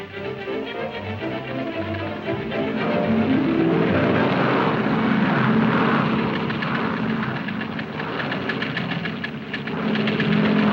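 Propeller airplane flying in a 1949 film, a loud steady engine drone that rises in strength partway through and holds, with no talking.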